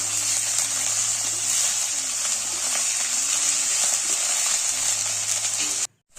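Ginger garlic paste sizzles in hot oil in a pan with browned onions, a steady crackling fry with faint stirring scrapes, continuous until a sudden cutoff at the end.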